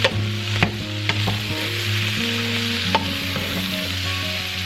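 Cabbage fries in bacon drippings, giving a steady close sizzle with a few sharp pops and stirring clicks, under a low constant hum, and no one speaks.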